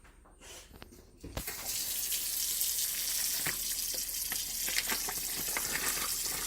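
A kitchen sink tap opens and runs in a steady, loud rushing stream as pork ribs are rinsed for frying, starting with a few clatters before the water surges and continues with faint splashes throughout.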